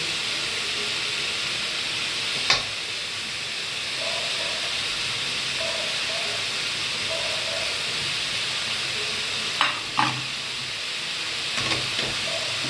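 Avarekai palya, a hyacinth bean dish with peanuts, cooks in a pan with a steady close hiss, broken by a few sharp clinks from stirring.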